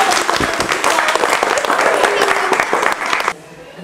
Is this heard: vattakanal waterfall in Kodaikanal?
no